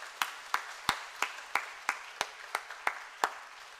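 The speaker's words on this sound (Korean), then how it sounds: "역시 우리 따뜻한 박수로 격려하겠습니다." A church congregation claps in unison, about eleven sharp, evenly spaced claps in a steady rhythm, moderately loud and roomy with faint echo between beats and no talking.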